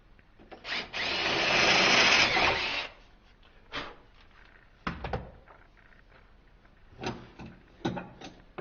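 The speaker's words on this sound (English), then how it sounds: "we have to drill here a little bit" A power drill whirs in one loud burst of about two seconds, drilling into copper tube, followed by scattered clicks and knocks of handling metal parts nearby.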